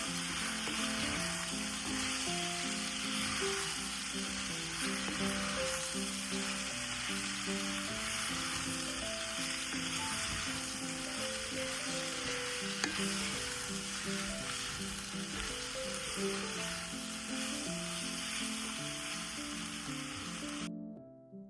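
Spices and cumin powder sautéing in hot oil in a single pot for creamy coconut-lemon chicken, making a steady, close sizzle with faint stirring scrapes that runs unbroken before cutting off abruptly.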